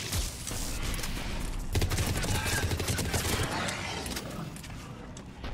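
Rapid Harrier rifle gunfire in Mass Effect 3 multiplayer, dense automatic bursts with sharp repeated cracks through most of the stretch, mixed with game effects and someone talking over it.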